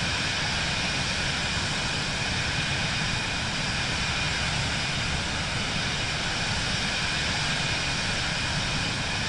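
Steady, dense cockpit drone of an aircraft engine in Microsoft Flight Simulator 2024 on PS5, cruising at 3,000 feet in a larger airliner; an unbroken, even roar with a faint high whine, no talk over it.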